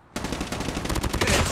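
Rapid automatic gunfire in a team deathmatch video game erupts after a brief quiet and runs as a loud, close burst of shots.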